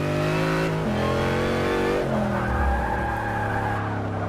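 A Dodge SRT Hellcat's engine revs hard and bounces off the rev limiter, a loud, sustained, buzzing roar with pitch shifts and brief drops as the limiter cuts in, heard up close with no talking.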